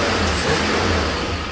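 A 1994 two-door Chevy Tahoe, freshly fitted with its engine and a new torque converter, runs with a loud, steady, close-up engine roar that holds evenly throughout, with no voices.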